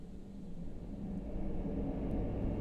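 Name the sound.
synthesizer drone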